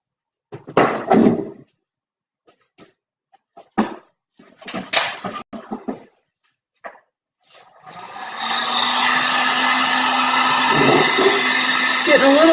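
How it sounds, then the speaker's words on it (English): A heat gun starts after several knocks and clatters and then blows hot air in a steady, loud, close whoosh for the last few seconds. "Take the heat gun."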